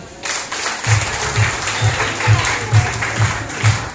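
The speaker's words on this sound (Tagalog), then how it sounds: "Isa pang palakpak para sa men." Applause for the men at a family day gathering, a steady wash of clapping with regular low thumps underneath, fairly close and continuous throughout.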